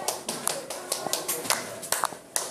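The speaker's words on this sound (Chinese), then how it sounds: "民众看到警方到场稽查，鼓掌叫好。" A few people clap in scattered, uneven bursts as police arrive to inspect a massage shop in a traditional market; the claps are sharp, close and fairly faint.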